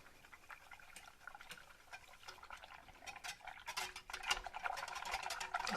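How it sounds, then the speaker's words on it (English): Liquid being poured into a homemade vanilla ice cream mixture while it is stirred, a soft continuous patter and swish of liquid with faint scraping, growing a little louder toward the end, no voices. "Pour it in and kind of mix it as we go."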